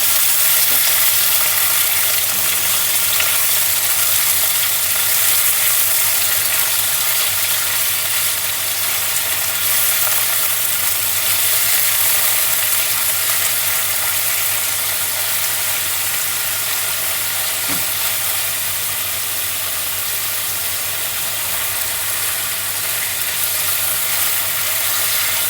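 Prawns shallow-fry in a pan, giving a steady, dense sizzle that holds at an even level throughout with no voices.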